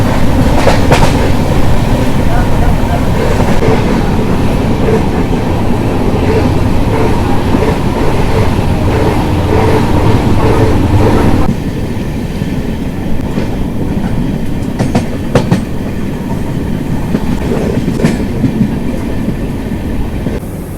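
The Vivek Express passenger train rolls along the rails, heard from on board as a loud, steady rumble with rhythmic clickety-clack from the wheels and occasional clanks.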